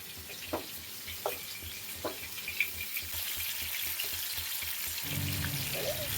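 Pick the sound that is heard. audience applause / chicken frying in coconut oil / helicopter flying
chicken frying in coconut oil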